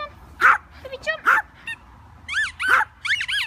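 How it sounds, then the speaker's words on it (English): A dog on holiday outdoors on grass gives a series of short, high yelping barks, about six calls in quick irregular bursts, close and clear over quiet background. "A bark, that is it."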